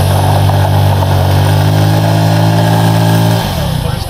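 Suzuki V-Strom motorcycle with a non-homologated Akrapovič exhaust holding a loud, steady high rev for over three seconds, then dropping off sharply into a rough, lumpy idle, close to the microphone.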